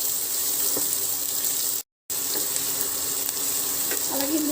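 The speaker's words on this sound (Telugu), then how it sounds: "ఇప్పుడు ఉల్లిపాయలు వేసేస్తాము. ఈ ఉల్లిపాయలు కొంచెం వేగాలి." Onions fry in a pan with a steady, moderately loud sizzle and crackle, broken by a brief silent gap, with faint scrapes and clinks near the end.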